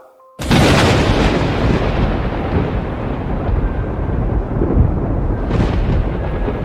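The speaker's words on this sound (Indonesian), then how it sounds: "Langit merah gelap di atas gerbang Larung Geni retak oleh gelekar petir hitam." Loud, sustained rumbling thunderclap bursts in suddenly after a brief quiet start and rolls on continuously with a deep, heavy boom for several seconds, no voices.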